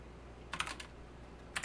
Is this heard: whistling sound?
no